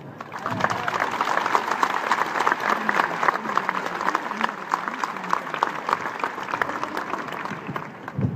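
Sustained applause from a congregation in a church during a rosary gathering for the Assumption, dense steady clapping with some crowd murmur, moderately loud throughout.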